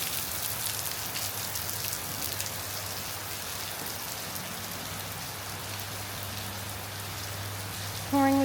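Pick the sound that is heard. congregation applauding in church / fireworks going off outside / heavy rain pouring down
heavy rain pouring down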